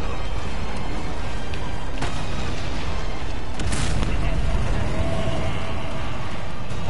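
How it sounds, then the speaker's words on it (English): A rocket launcher fires and explodes in a video game: a steady roar of gunfire and booms with a sharp blast around the middle, while someone talks over the action. "Rocket launcher."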